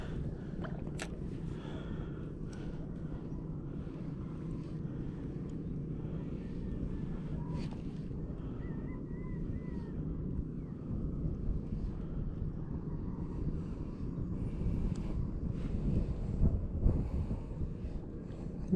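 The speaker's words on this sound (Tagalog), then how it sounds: "Medyo kusog ang hangin mga master." Strong wind buffets the microphone during a fishing outing on the water, a steady loud low roar that swells toward the end, with faint voices underneath.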